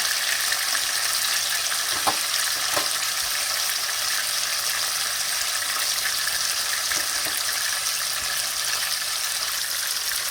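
Kerala-style masala fish frying in oil in a pan, a steady, dense sizzle and crackle throughout with a couple of faint knocks, no talk.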